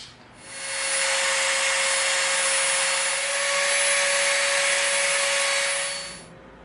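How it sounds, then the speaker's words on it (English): A power tool grinds steadily against EVA foam, bevelling the inside edges of a gas gun prop piece; a continuous, loud whirring hum with a fixed high tone runs for about five seconds, starting and stopping cleanly, with no talk. "we're going to slightly bevel the inside edges of this"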